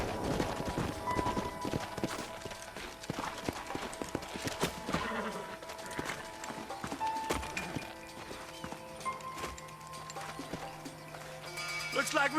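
Horses clip-clopping in Red Dead Redemption on Xbox One, a dense busy rhythm of hooves with occasional whinnies, mixed under game music and effects throughout.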